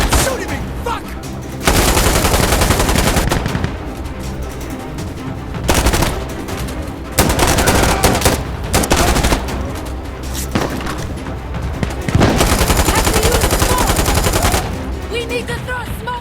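Bursts of automatic gunfire in the shooter game Insurgency Sandstorm come loud and close in several long volleys separated by brief lulls, with shouting between them.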